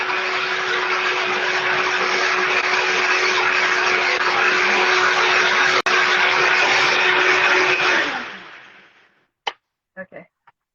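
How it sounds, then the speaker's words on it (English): A kitchen blender whirs loudly and steadily while blending a tonka bean smoothie, a harsh continuous roar for about eight seconds before winding down, followed by a few faint clicks. "first rule of using the blender is turn on the blender switch"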